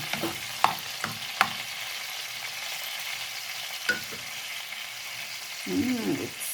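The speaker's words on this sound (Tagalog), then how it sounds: "Ibig, gisa ko naman siya ngayon dyan." Marinated garlic being sautéed in a pan for beef steak: a steady, even sizzle with a few sharp clinks of a utensil against the pan, close and alone, with a brief rumble near the end.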